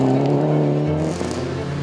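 A rally car at the Rocky Mountain Rally 2023 drives hard, its engine holding a loud, steady close drone that drops in pitch partway through as it shifts or passes.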